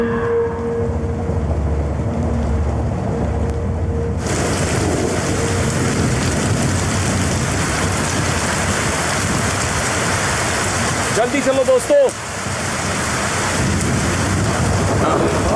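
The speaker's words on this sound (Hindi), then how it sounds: "बारिश बहुत तेज है," Steady heavy rain roars close by during a storm, with a rumble of thunder and a brief crack near the end; a voice calls out briefly under the downpour.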